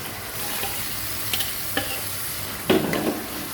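Chicken pieces sautéing with spice masala in a pan for a Hyderabadi-style chicken dish, with a steady low sizzle, occasional stirring scrapes and a louder burst of frying near the end; no one speaks.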